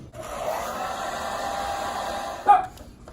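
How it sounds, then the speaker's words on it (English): A plastic eyeglass frame is warmed with a hot-air heater before adjustment, giving a steady, close airy whoosh for over two seconds that ends with a brief louder burst. "Since this is a plastic frame, you always want to heat it up before you do an adjustment."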